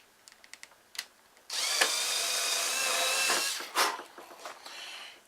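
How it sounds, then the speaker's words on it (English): Power drill boring a hole into a Phoenix Models Genesis model, a continuous whining burst of about two seconds after a few soft clicks, with brief handling knocks and a short final spin afterward, close and loud. "I'm going to drill a hole."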